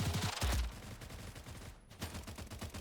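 Rapid bursts of gunfire in the video game Stalcraft: X, loud and dense at the start, then continuing as a busy layered fusillade with shots from several directions during a crowded fight.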